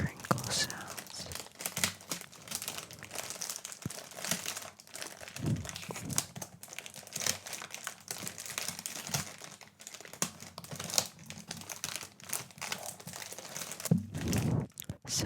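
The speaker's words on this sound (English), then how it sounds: "I thought it would make some nice crinkle sounds." Plastic packaging on a new green Pokémon card binder crinkles in close, soft bursts, with scattered tearing and rustling under quiet whispering.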